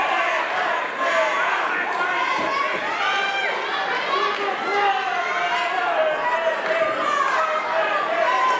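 A wrestling crowd at the Key to the City 2019 match murmurs and shouts in disbelief after a near fall, a dense, continuous roar of many voices filling the hall, with scattered louder cries rising through it.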